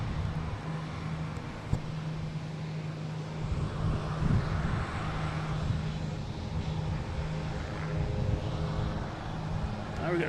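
A Delta Embraer E175 airliner bound for LaGuardia at Boston Logan, a steady broad jet-engine roar with a low hum, moderately distant and continuous, with faint traffic noise mixed in.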